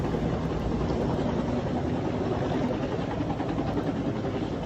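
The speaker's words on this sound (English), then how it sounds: "that this chopper can come in there with a certain amount of weight" Steady, dense rotor and engine roar from a helicopter flying over the LA wildfires, a continuous broadband drone with no pauses or talk.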